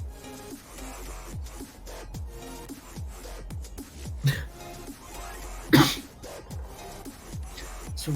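A man coughs repeatedly during a livestream, a series of short rough coughs and throat clearing spread over several seconds, close to the microphone with a louder burst near the end.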